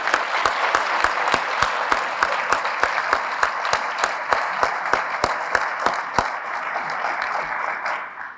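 Audience applause for Concord's Firefighter of the Year, a fire marshal, at a State of the City event; sustained clapping from a room crowd with a few sharp claps standing out, tapering off at the end.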